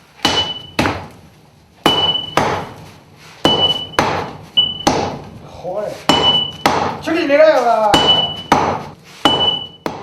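Heavy hammer blows strike red-hot steel being forged into a Korean sword, landing in an uneven, loud series of sharp metallic clangs with ringing overtones, some blows glancing off; a voice speaks briefly between strikes.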